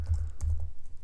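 Keys clatter in brief irregular bursts as code is typed on a computer keyboard, with a low steady hum underneath and no talking.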